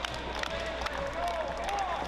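A crowd cheering and clapping in a noisy hall, a steady dense roar with whistles rising over it, while people talk over the noise.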